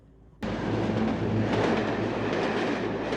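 A train running on rails, heard from inside the carriage, bursts in abruptly after a quiet moment and continues as a loud, steady rumbling clatter.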